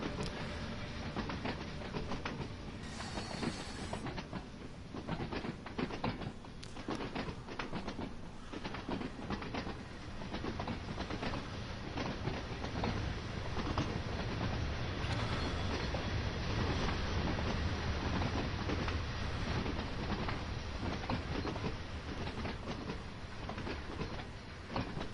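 Fastest electric locomotive running in Train Sim World, a continuous rail rumble with clickety-clack wheel beats and faint squeals, loud and steady throughout with no talk.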